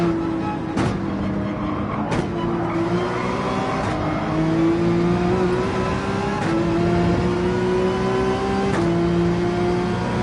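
A race car in Gran Turismo 7 at Fuji revs hard and climbs through its gears, with the engine note rising and then dropping at each upshift. The sound is loud and continuous, with no voices.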